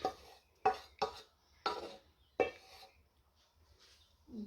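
A wooden spoon scrapes leftover sauce from a saucepan in a few distinct, separate strokes with quiet gaps between them, heard close up.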